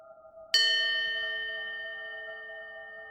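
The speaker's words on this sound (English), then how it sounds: "Another bell, closer." A deep, enormous bell tolls once near shore in fog, a sudden struck clang whose ringing hum decays slowly over several seconds, heard alone against near silence.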